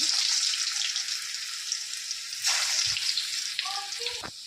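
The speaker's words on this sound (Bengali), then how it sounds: "রসুন কুচানো দিয়ে দিচ্ছি" Chopped garlic and cumin seeds sizzle steadily in hot oil, a loud continuous frying hiss throughout with a few brief clinks and stirring sounds near the end.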